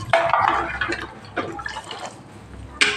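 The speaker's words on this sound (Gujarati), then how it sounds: "આપણે પાણી ઉમેરી દઈશું આછી ઘાટી જે રીતે તમારે કઢી ખાવી હોય એ રીતે તમારે અહીંયા પાણી ઉમેરવાનું" Water poured into a pot of kadhi, a yogurt-based curry, giving short close splashing bursts with a final splash near the end, no speech.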